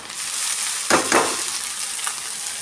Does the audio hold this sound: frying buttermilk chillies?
yes